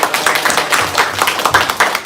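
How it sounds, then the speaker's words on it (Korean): A church congregation at a Sunday service claps for visiting guests, a close, fairly loud run of rhythmic hand claps lasting about two seconds. "부끄럽지만 박수 한번 주세요."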